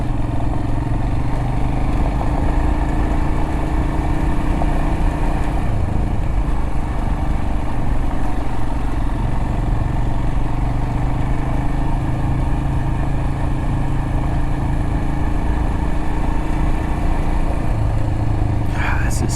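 A motorcycle rides a dirt mountain road in the North Georgia mountains. The engine drones steadily and loudly at close range for the whole stretch, with wind and road rumble mixed in and no break in the noise.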